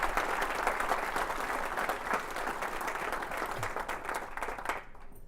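A crowd at an indoor celebration event breaks into sustained applause, a dense wash of many hands clapping at steady loudness for about five seconds before cutting off abruptly.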